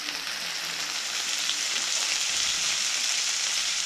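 Bacon sizzles steadily in a stock pot over high heat for a Dublin coddle, a close, even crackling fry that continues without pause and with no voices.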